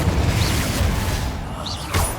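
Confringo explosive spell blasting in the video game Hogwarts Legacy, a dense booming rumble filling the whole moment with a brief swell near the end, loud and up front.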